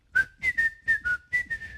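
A person whistles a short tune in clear, bright notes, about six or seven phrases with brief gaps between them, close and alone with no talking.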